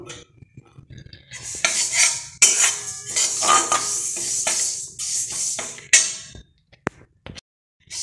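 A metal utensil scrapes and clinks against a wok while stirring sesame seeds over lowered gas heat, in quick irregular bursts, fairly close, with a brief pause near the end.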